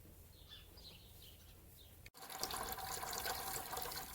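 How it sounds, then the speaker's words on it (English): A tap runs, filling with water, a steady hissing rush that starts abruptly after a quiet stretch with faint birdsong, then continues loud and close. "I'm filling some water."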